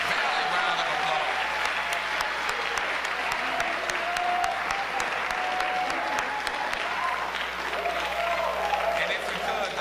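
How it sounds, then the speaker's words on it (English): Sustained round of applause from a crowd at a university Martin Luther King and Black History convocation, steady dense clapping with voices mixed in throughout. "Let's give her another Valley round of applause"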